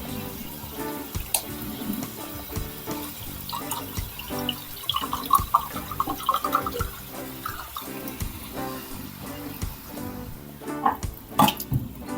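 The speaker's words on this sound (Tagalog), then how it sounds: "Lagyan natin ng konting tubig." Water splashing and pouring into a pan of sardines, running steadily for several seconds with clinks of utensils around it.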